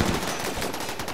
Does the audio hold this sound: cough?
no